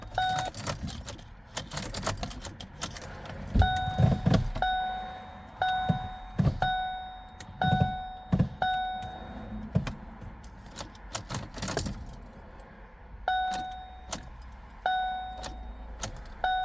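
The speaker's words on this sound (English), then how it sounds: "I will just turn the ignition on." Ignition switched on in a 2013 Ford Focus with a no-crank, no-shift transmission fault: repeated dashboard warning chimes ring among sharp key clicks, jangling and thunks inside the car, close and fairly quiet.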